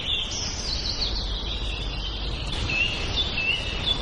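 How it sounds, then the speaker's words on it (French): A pair of weaver birds gives thin, high chirps and short whistled calls, scattered over about four seconds above a low rumbling background. "comme c'est le cas de ce couple tisserand"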